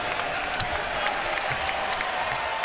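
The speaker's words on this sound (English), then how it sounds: "Get the applause from the fans" Basketball arena fans applaud after the Knicks beat the Detroit Pistons, a steady wash of crowd clapping and cheering, distant and diffuse, sustained throughout without any clear talk on top.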